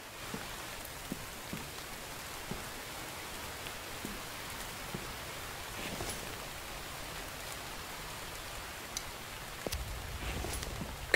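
Rain falls in the survival game The Infected, a constant close hiss with scattered drip ticks and small thumps, swelling slightly near the end, with no talking.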